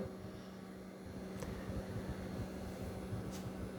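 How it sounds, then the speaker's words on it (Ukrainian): The cooling fan of an APC Back-UPS Pro 650 gives a steady, low hum with broadband whir throughout, constant and unvarying, with faint electrical tones and no talking. "Вентилятор зараз працює."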